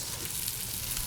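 Mushrooms browning in a hot pan give off a steady, dense sizzle that is close and continuous, with no voices.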